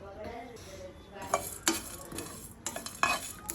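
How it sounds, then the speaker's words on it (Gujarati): Cumin, green fennel seeds and black peppercorns dry-roasting in a pan, stirred with a utensil: a run of scraping, rattling strokes and faint crackle, close and fairly quiet, with no talking. "આ બધા મસાલાને સૂકા રોસ્ટ થવા દેવાના છે 1 થી 2 મિનિટ માટે"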